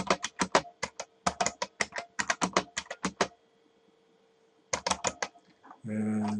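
Quick runs of keystrokes on a computer keyboard as code is written, clicking close and crisp in bursts, then a pause, another short flurry, and a brief final sound.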